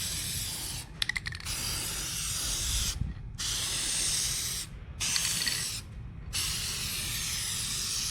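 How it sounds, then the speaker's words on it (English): An aerosol can sprays Hyperdip coating onto a Ford Explorer in repeated hissing bursts, each a few seconds long and separated by short pauses, with faint clicks between passes. "And start spraying."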